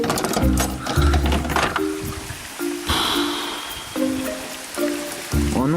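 Rain falls as a steady hiss behind intermittent melodic tones that come and go over it.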